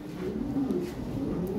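A domestic breeding pigeon close by gives a short low coo that swells and fades over about a second and a half, with no talk.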